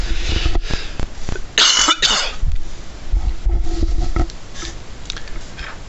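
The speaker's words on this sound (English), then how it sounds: "Pardon my cough." Someone coughs loudly and close up, a few harsh bursts in quick succession amid background rumble.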